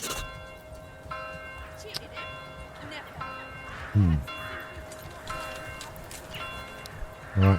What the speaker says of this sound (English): Church bells are ringing.